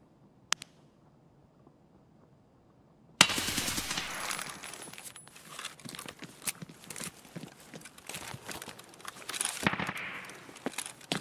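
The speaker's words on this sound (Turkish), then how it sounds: "BT mermi sıkıyor ya" Rapid bursts of gunfire firing BT ammunition in Escape from Tarkov crack after a quiet lull with one early isolated shot, followed by dense, irregular volleys and sharp reports of varying loudness.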